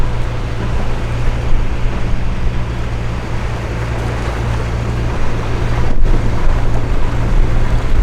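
A 2022 Yamaha 195S jet boat idling on the water during engine break-in, a steady loud low hum with constant tonal drone and water wash, running unchanged for the whole stretch with no talk.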